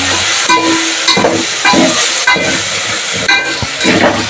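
Ginger and garlic sizzling and frying loudly in a hot pan for a home-cooked biryani, with repeated scraping stirs every half second or so over a steady hiss, close up and without talk.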